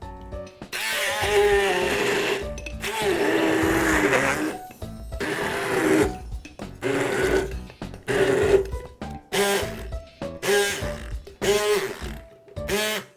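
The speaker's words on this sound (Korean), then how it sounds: "매실 과육을 저는 다져보도록 할게요" Loud bursts of a food processor or chopper mincing pitted plum flesh, whirring in repeated pulses, some long and some short, with brief pauses between them.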